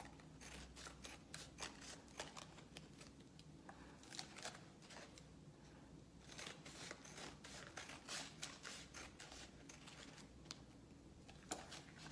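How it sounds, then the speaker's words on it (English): Scissors snip through paper towel with a steady, rapid run of crisp cuts and rustles, close and alone for the whole stretch. "take your scissors and cut off the extra paper towel on the ends"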